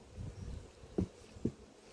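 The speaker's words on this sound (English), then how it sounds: "You get one bee stuck in the thing." A honeybee trapped inside a beehive at an apiary hums with a faint, low, steady buzz, with two brief louder bumps partway through.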